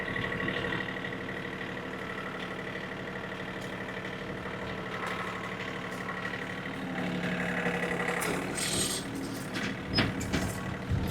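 Four-wheel-drive vehicle in granny gear, its engine droning at a low, steady idle close by, with mechanical clunks and rattles toward the end.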